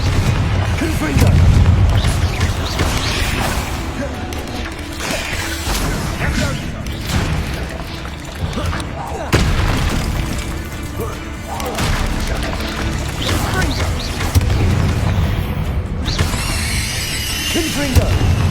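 Confringo blasting spells in Hogwarts Legacy burst in a run of loud, booming explosions, one after another, over dense combat noise, with a shouted voice breaking in throughout.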